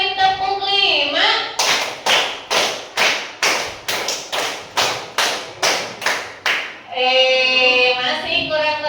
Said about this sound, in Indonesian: Coba dua kali tepuk lima.